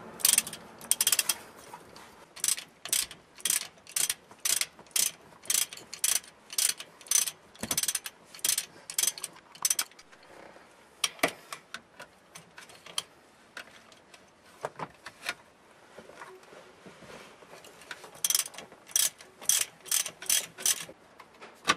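A ratchet clicks in quick repeated bursts while bolts are loosened to install an SR shifter, close and crisp with short pauses between runs.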